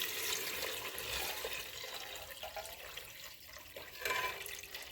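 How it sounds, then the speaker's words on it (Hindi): Yakhni stock water pours steadily into biryani masala in a pot, a continuous close liquid splash and trickle with small fluctuations, no talking. "तो यखनी का पानी भी अब हम इसमें ऐड करेंगे।"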